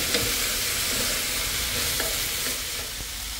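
Vegetarian glass noodles stir-fried in a pan: loud, continuous sizzling with scraping and tossing sounds from close by, alone without speech.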